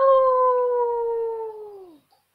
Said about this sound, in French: Il a faim, il a de grandes dents et crie « Aouh !»